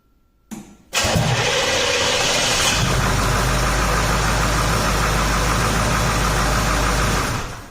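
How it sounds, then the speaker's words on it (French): An Oldsmobile 5.7-litre diesel V8, formerly hard to restart when hot, is cranked briefly and then catches, settling into a loud, steady, close-up idle with a rough, knocking diesel rumble that runs unbroken to the end. "le moteur a redémarré"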